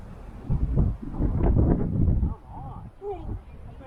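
Strong wind buffeting a microphone outdoors while an RC plane is flown in gusty conditions, low rumbling gusts rising and falling loudly, with someone talking over it near the end.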